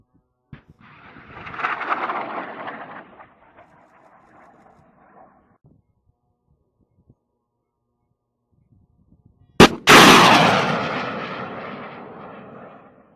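An NLAW anti-tank missile launch: a short soft-launch pop and rising whoosh, a quiet pause, then a sudden loud blast that decays into a long rolling rumble outdoors.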